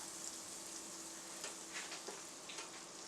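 Unsalted butter melts and sizzles with olive oil in a pan, a steady close crackle with sharp pops throughout, no voices.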